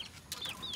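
A native chicken gives a short, soft cluck with a couple of brief chirping notes, close by and quiet with no talking.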